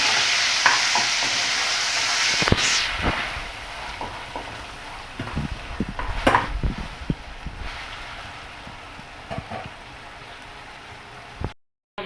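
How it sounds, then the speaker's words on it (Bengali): Chicken pieces sizzle in a pan while being stirred for chicken rolls, a soft steady frying hiss broken by close, irregular scrapes and knocks of the spatula, ending in a brief silence. "একটু নাড়িয়ে নিয়ে চিকেনটাকে একটু নাড়িয়ে নিয়ে 8 মিনিট মতো"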